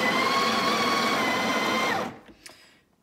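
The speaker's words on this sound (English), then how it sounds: "by pushing the device, you can grind the" Breville Barista Express espresso machine grinding coffee beans with its built-in grinder, a loud, steady whirring grind that stops after two seconds, followed by a few light clicks and handling sounds.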